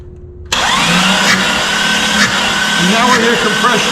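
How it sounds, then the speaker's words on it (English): An engine cranks over steadily during a compression test while compression leaks past cylinder number 4, a continuous loud whirring drone that starts abruptly after a brief quiet lead-in and holds on with slight pulsing. "I'm hearing the compression sneak through cylinder number 4"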